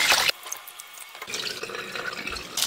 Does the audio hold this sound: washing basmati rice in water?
yes